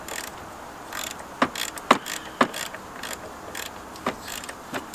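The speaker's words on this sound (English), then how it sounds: "you go with the 10 millimeter socket and a ratchet" Ratchet turning a 10 mm socket to tighten an ignition coil bolt, a series of quiet clicking pulls with a few sharper ticks, close and fairly faint.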